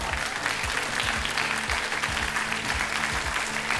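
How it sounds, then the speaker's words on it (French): Loud, steady applause from a large TV studio audience fills the whole stretch, dense clapping with no break. "Applaudissements."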